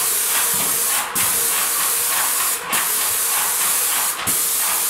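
A paint sprayer hisses continuously as ceiling paint is sprayed, a loud close steady spray broken by three brief pauses.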